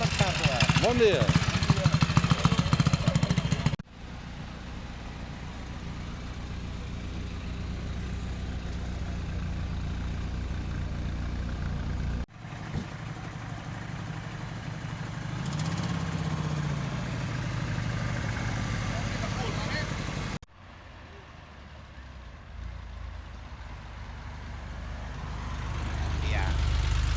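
Several classic vehicles and old tractors idle in turn at a vintage vehicle gathering, each a steady low exhaust rumble heard up close, with abrupt cuts between machines and a brief revving sweep in the middle.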